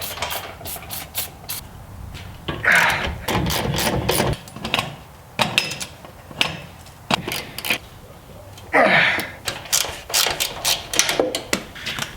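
A ratchet works loose the stubborn top three coilover nuts on a third-generation Toyota 4Runner, penetrating oil applied, giving repeated close bursts of clicking and rattling with short pauses between.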